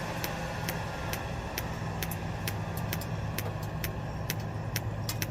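A home-built turbojet engine keeps spinning after running, giving a steady rushing whir over a low hum. Rapid, regular metallic ticks run throughout, close and fairly loud, with no voices.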